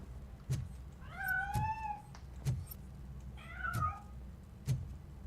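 Cat meowing in a video game, two drawn-out meows spaced apart over a steady low hum with regular soft thumps, fairly close and clear, no talking.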